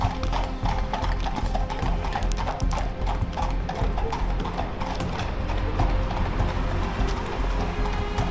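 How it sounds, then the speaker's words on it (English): Hooves of horses from a nearby training school clip-clop steadily on a country road, a brisk trotting rhythm heard clearly over several seconds against a soft outdoor background. "I heard the sounds of horses trotting"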